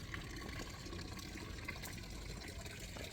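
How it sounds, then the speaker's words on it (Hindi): Water pours steadily from a lion-head fountain spout in the old town of Blankenburg, Germany, giving a continuous, moderately close splashing and gurgling wash with no voices. "तो आप सुन रहे होंगे कि इस खामोशी के माहौल में ये पानी की आवाज़ किस कदर भली महसूस हो रही है।"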